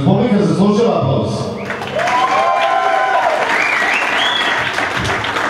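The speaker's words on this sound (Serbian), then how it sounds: "Jer publika zaslužila aplauz." Loud, sustained applause at an annual folk ensemble concert as the performers clap for the audience, with a crowd murmur and a voice rising above the clapping before it settles into a steady roar.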